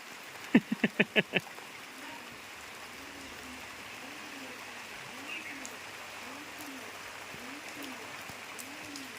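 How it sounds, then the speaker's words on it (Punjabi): Steady soft rain hiss fills the background, with a short burst of clapping near the start and a faint rhythmic low hum throughout. "ਨਾਲ ਹੀ ਮੀਂਹ ਲੈ ਪਿਆ"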